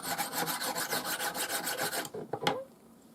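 Knife blade rubbed in quick repeated strokes on a banded jasper Viking whetstone of about 400 to 600 grit, a rhythmic close rasping that stops after two seconds, followed by a faint tap.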